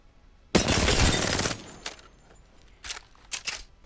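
An R-99 submachine gun in Apex Legends fires from the hip in one loud, rapid, continuous burst lasting about a second, followed by a few shorter, quieter shot bursts and clicks.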